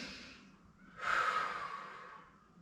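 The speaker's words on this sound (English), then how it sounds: "Breathing here." During a hip stretch in a dumbbell lower-body workout, a person takes a slow breath in and then lets out one long, audible exhale. It sounds close and quiet, with nobody speaking.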